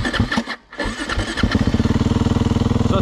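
An enduro motorcycle with its stock silencer is started close by. A few cranking coughs catch, then it settles into a steady, evenly thumping idle.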